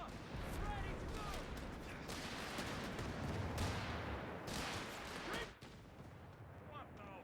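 Mortar and artillery fire from Company of Heroes 3 in a three-versus-three skirmish rumbles as dense, continuous booms and gunfire, faint and distant, with a voice briefly speaking underneath.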